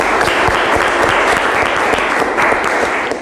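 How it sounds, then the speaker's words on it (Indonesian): An audience at a youth talk session bursts into loud, dense applause, a continuous close wash of many hands clapping. "Oke, tepuk tangan"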